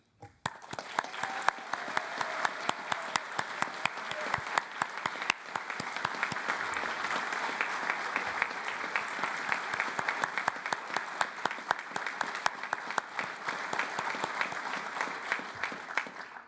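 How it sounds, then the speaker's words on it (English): Graduating students of the Staffordshire Games Institute applaud themselves at a summer graduation ceremony, a long, steady wash of crowd clapping heard somewhat distant and even in level throughout. "please join me in giving yourselves a round of applause for everything that you have achieved"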